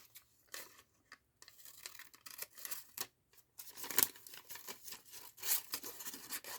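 Scissors snip through scraps of brown paper bag, a quick run of close, crisp cuts with brief pauses and light paper rustling between strokes.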